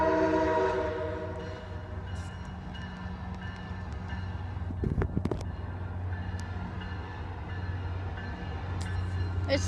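Passing train sounding a sustained, eerie-toned horn that fades early on, while the low rumble of the rail cars rolls on, with a sharp clank midway as the train continues past.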